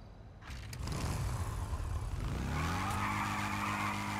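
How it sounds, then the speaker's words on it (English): A motorbike from the biker update in GTA 5 does a burnout, its engine revving up into a sustained skidding tire screech that builds after a brief start and holds loud to the end. "Burnout time."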